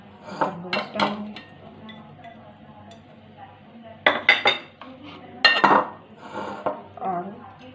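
Fruit pieces, including watermelon, tumble into a bowl for a Tang fruit chaat and are tossed with clinking utensil and dish knocks in several short bursts, louder near the start and again midway, with a faint voice underneath.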